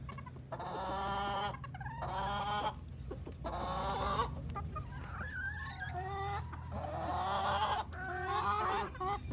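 Hens cluck and call in bursts while eating melon and grapes, their voices close and overlapping in an uneven, chattering rhythm.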